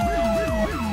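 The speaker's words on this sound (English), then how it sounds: "don't you hear the sirens? Right beyond us." A police siren in Arma 3 wails, sweeping up and down in quick, repeating cycles, loud and near, with a steady tone underneath and no talking.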